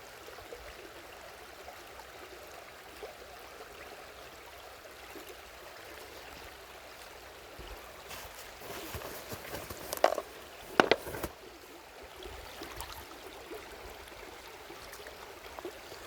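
Water rushing over rocks at a waterfall, a steady broadband wash with a few sharp clicks and knocks standing out near the middle, without talk.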